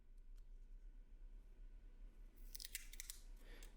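Scissors snip through a piece of craft material during a repair, a short cluster of crisp, close cuts near the end following quiet handling noise.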